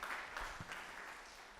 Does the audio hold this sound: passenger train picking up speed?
no